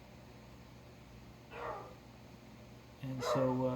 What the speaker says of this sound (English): excuse my dog barking.